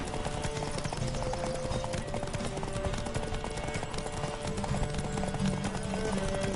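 Rapid, continuous clip-clop of galloping horse hooves, loud and close, running steadily throughout with a dense rumbling backdrop.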